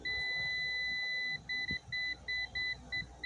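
A multimeter continuity test on a Siemens Simatic HMI TP1500 Comfort circuit board gives a sharp, high-pitched beep, first one long tone, then a series of short repeated beeps as the probes make and break contact, quiet.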